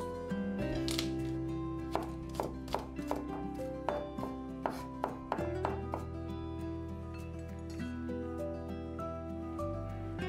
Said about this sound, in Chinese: 蒜头去皮后切碎